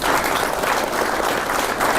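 An audience applauds a yoga performer, a loud, close burst of dense clapping that stays steady throughout.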